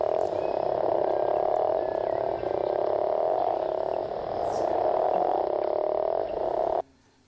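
A leopard toad's mating call fills the recording, a steady droning croak that runs loud and close without a break for nearly seven seconds before cutting off abruptly.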